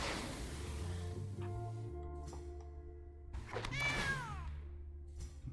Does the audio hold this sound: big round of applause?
no